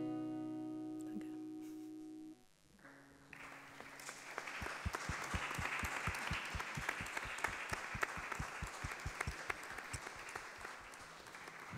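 Audience applause following a choir song at a reconciliation concert by the Coro Reconciliación, beginning after a sung note fades and building into steady dense clapping that continues for several seconds.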